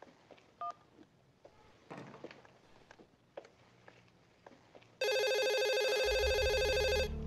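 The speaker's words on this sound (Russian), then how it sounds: "Я уже звоню тебе в сотый раз." A telephone being dialed for a call: a few faint scattered taps and clicks, then a loud, steady run of electronic dial tones near the end, with no talking.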